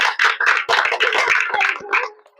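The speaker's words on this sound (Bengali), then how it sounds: "হাততালি সবাই মিলে" A crowd of spectators claps together at a children's balloon-popping contest held in water, a dense burst of hand claps lasting a couple of seconds and then fading out near the end.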